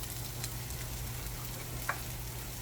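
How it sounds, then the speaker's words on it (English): Onions and garlic fry in oil in a pan, giving a steady, even sizzle with a faint scrape partway through and no talking. "I'm going to cook my onions with my garlic."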